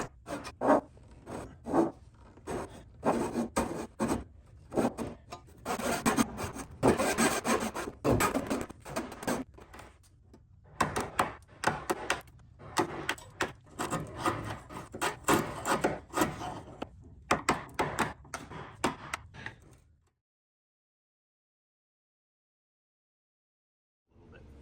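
A woodworking saw cuts through a wooden boat stem laminate bonded with epoxy thickened with high-density filler. Close, loud, rhythmic rasping strokes continue for about twenty seconds, then stop abruptly and leave silence.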